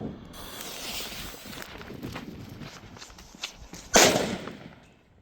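A Vampire Bang firecracker, about 2.5 grams, goes off with one sharp, loud bang near the end, after a few seconds of shuffling, footstep-like movement outdoors.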